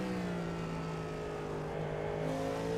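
A Cadillac LMDH race car engine in iRacing roars steadily at high revs, a loud, sustained mechanical whine with slight pitch shifts, no voices.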